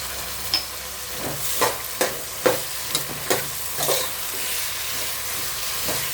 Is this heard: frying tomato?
yes